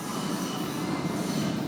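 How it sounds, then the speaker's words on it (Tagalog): An LRT Line 1 train in Manila runs past at close range, a loud, steady roar of rolling wheels and rail noise with a metallic squeal, with no voices. "At ito na nga ang LRT Line 1 ngayon."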